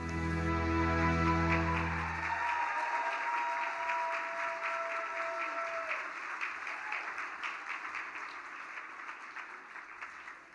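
Applause at an arts council gala award presentation. A sustained musical chord fades out first, then a soft, even rush of many people clapping continues at moderate distance and slowly tapers.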